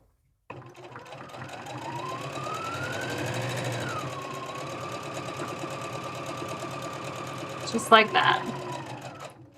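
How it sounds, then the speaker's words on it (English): A sewing machine stitches down a drawstring bag seam with a steady, close mechanical hum and rising then settling whine, finishing in a burst of rapid clicks, while a person speaks briefly. "And sew this down."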